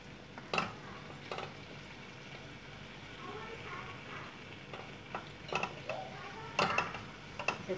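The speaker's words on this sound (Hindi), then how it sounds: "थोड़ा सा बस मिक्स करें" A spoon stirs cashew paste into chicken gravy in a pan, making soft scraping clinks at irregular intervals over a low sizzle. Someone speaks quietly in the background.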